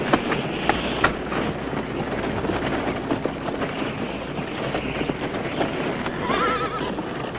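About six horses pulling a wagon come down a road, hooves clopping and wheels rumbling in a continuous busy mix, with a horse whinnying partway through.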